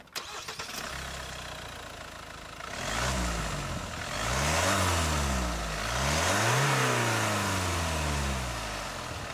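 A 2020 Hyundai Palisade with the 2.2 liter diesel starts and then accelerates in rising, falling surges as it climbs through gears, a steady mid-pitched engine drone heard from inside, no talk.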